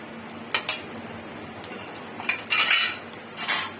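Banana flower curry is stirred in a pan with a metal spoon, producing a few separate clinks and scraping strokes against the pan, close and quiet, with no voices.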